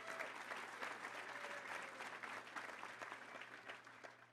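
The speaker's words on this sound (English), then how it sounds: "Please stand and let's give her a round of applause." A Little Rock Touchdown Club crowd gives a round of applause for a player's wife, steady even clapping heard faintly from a distance over a low constant hum.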